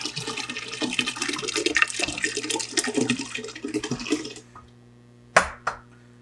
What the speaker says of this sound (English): I'm just going to pour directly in to